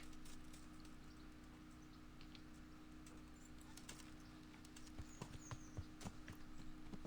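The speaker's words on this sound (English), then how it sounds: "Alright, well, here's our horse." A horse in the medieval video game Kingdom Come: Deliverance, with soft hoof clops and small clicks over a low steady hum, faint and without talk.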